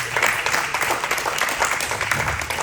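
An audience at a ballroom community town hall claps in a dense, sustained round of applause from start to finish, with no one speaking.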